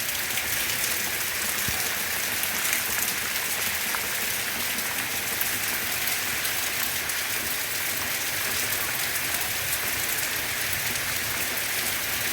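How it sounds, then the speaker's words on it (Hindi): Heavy rain pours steadily as a dense, even hiss that stays constant and close, with no voices over it. "जोर पकड़ लिया है बारिश में"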